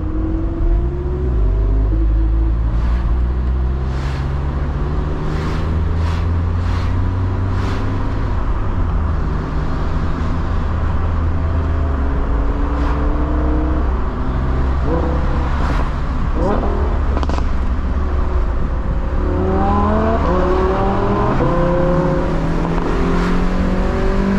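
A Mazda MX-5 Miata's small high-revving engine accelerates through several gears, rising and falling in pitch, with road rumble throughout and no speech.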